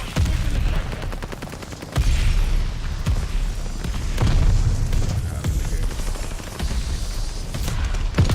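Mortar strike explosions in Call of Duty Vanguard, heavy booming blasts arriving in a rough sequence with rattling gunfire in between, loud and dense throughout.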